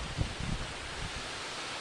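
Gusty wind buffeting outdoors, a rough low rumble that swells briefly near the start then settles into a steady breezy hiss.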